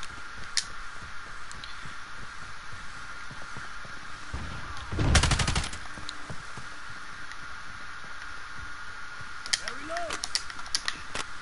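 A single heavy .50 caliber gunshot in the Modern Warfare beta, one loud broadband blast midway over steady game ambience, with a few faint clicks afterward.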